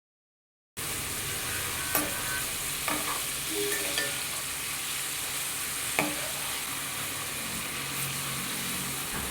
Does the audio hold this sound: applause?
no